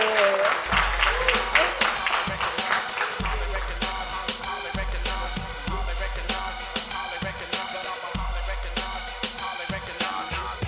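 A concert crowd claps and cheers loudly and steadily, over thumping low-pitched beats.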